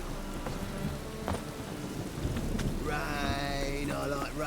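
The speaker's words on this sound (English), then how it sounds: "Rain, I like rain." Steady heavy rain in a thunderstorm in the video game Witcher 3, with a low rumble of thunder running under the downpour throughout and some game sounds layered on top.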